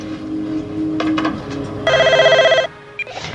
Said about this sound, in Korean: 하지만 갑자기 걸려온 전화 한 통은 이런 상황을 급반전시킵니다.